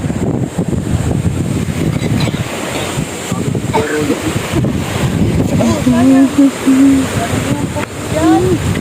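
Steady wind rushes over open water with surf noise, loud and buffeting the microphone, while voices talk faintly underneath.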